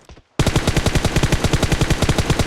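A rapid burst of automatic gunfire from PUBG Mobile, loud and close, a steady string of sharp shots that starts abruptly after a brief quiet moment and continues without pause.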